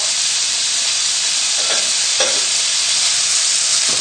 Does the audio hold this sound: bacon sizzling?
yes